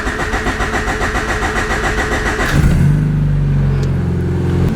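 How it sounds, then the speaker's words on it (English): A car engine cranks with a rapid rhythmic churning for a couple of seconds, then catches and settles into a loud, steady idle. "That was the longest crank it's done in the entirety of this car."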